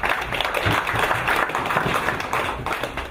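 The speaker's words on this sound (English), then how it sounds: "Now can you do it again by giving a big round of applause?" An audience at a regional farewell party gives a round of applause, a dense, loud wash of many hands clapping that holds steady throughout with no talk over it.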